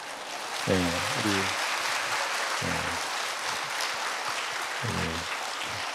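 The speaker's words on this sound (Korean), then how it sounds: "아무래도 한번 박수를 쳐드려야 될 것 같아요" A church congregation applauds during a sermon, with a continuous wash of clapping carrying on while a voice speaks intermittently over it.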